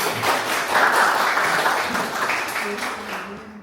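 A small crowd of campus workers' union members at Universitas Gadjah Mada gives a short burst of applause, moderately close, fading out over a few seconds.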